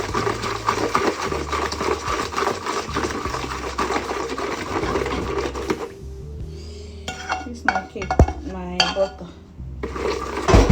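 Sugar stirred vigorously in a bowl makes fast, continuous scraping and clinking close by, which thins into scattered clatters and taps near the end.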